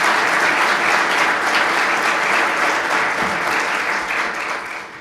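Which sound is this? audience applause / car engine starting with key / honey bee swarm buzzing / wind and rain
audience applause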